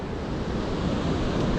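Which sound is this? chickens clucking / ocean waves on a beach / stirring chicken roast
ocean waves on a beach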